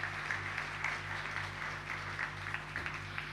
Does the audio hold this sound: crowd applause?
yes